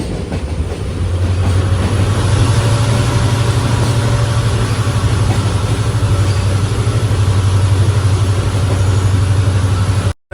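Train engine roaring through a tunnel on the Goa to Dudhsagar line, a loud, steady, enclosed drone with a deep low hum and rushing noise, continuous for ten seconds before cutting off abruptly.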